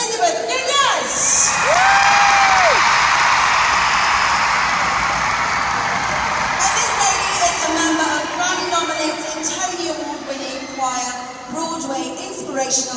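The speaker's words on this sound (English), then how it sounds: "A hearty round of applause for Elizabeth Nunez!" A large crowd at a children's choir concert cheers, whoops and applauds loudly for a soloist, with high children's shouts over sustained clapping, which gradually settles toward the end.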